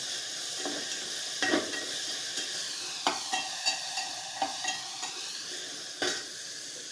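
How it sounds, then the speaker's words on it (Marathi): Tomatoes sauté with masala in a pan for a shev rassa curry, a steady sizzle broken by regular spoon scrapes and taps against the pan, close and unaccompanied by speech. "आता याच्यात टमाट टाकून घ्यायचा ते पण चांगला असं परतून घ्यायचं"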